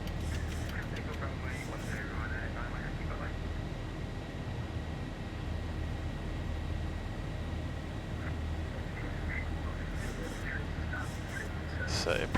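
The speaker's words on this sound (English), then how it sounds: "There's the airplane accelerating, flap 1." A Zibo Boeing 737-800 in the X-Plane 11 simulator, climbing away with flaps retracting: a steady, even engine roar holds throughout, with brief chirping cockpit tones and a voice now and then.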